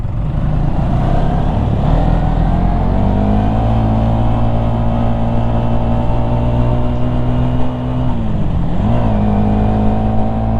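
A vehicle driving at night on a hilly mountain road in Bandarban, a loud steady engine drone with gear-like pitch shifts and a brief dip near the end, heard from inside, no talking.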